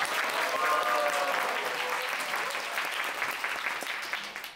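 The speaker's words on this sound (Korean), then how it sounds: "시그니처 화답법은 박수 더하기 함성이에요." Lecture-hall audience at a bookstore talk claps steadily for several seconds, a dense continuous wash of applause that slowly fades toward the end.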